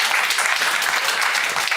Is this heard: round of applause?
yes